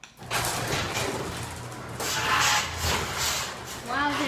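Noisy residential garage door closing, a steady loud mechanical drone with rattling that swells midway, heard close up without talk.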